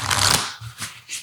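A deck of oracle cards is shuffled close by in a quick riffle, followed by two softer brushing flicks.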